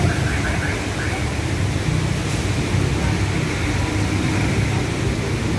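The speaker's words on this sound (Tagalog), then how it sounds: "Grabe ang lakas ng ulan." Heavy rain pours steadily outdoors during a motorcycle ride, a dense, even broadband hiss that holds at constant loudness throughout with a low rumble underneath and no pauses.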